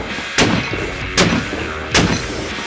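Three loud, sharp gunshots from a rifle fitted with a two-port muzzle brake, evenly spaced about three-quarters of a second apart, each with a brief booming tail at close range.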